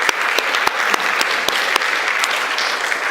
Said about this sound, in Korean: 우리 나오신 분들 한번 진짜 다시 한번 박수할까요?